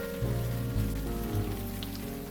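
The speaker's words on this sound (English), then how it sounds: "It's raining buckets." Rain falls steadily in the video game The Blackwell Epiphany, a soft, even patter heard with a low, droning background tone and no speech.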